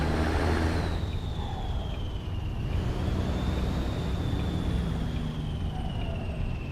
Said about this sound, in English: there went a pretty decent sound of a truck